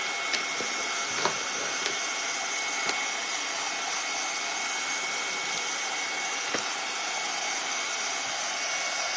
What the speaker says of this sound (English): And just hit this with a dryer quick.